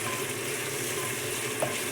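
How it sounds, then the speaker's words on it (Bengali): Onions sizzle and fry in a pan, a steady crackling hiss at moderate volume with a brief stir or clink near the end and no talking. "আপনারা পেঁয়াজগুলো লাল লাল করে ভেজে নেবেন"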